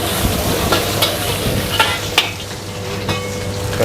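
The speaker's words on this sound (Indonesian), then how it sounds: "Tumis toge telur ya." Bean sprouts and egg stir-fry in a wok under a loud, continuous sizzle, with sharp spatula scrapes and clanks against the metal at irregular moments throughout, and no voices.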